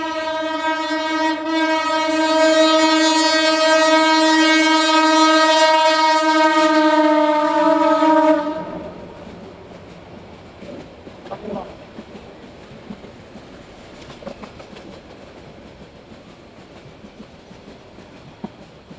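A passing train sounds a long, loud horn with strong harmonic tones for several seconds, then the horn stops and rumbling wheels and scattered clacks continue at a moderate distance.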